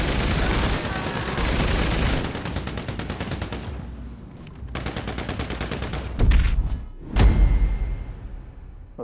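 Tommy gun bursts in GTA Online, rapid automatic fire in dense close volleys that stop and restart, with a couple of heavier booming shots near the end.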